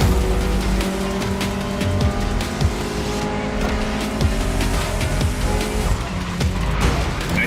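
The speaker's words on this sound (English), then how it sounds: "especially your new ride, Toji's Mitsubishi Lancer Evo X" Mitsubishi Lancer Evo X racing in The Crew Motorfest, a steady loud engine drone with tire squeal and skidding throughout, no talk.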